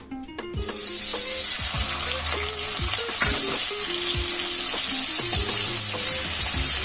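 Grated coconut frying in two tablespoons of oil in a kadai sizzles loudly and steadily at close range, with repeated clinks and scrapes of a spatula stirring against the pan and no talk.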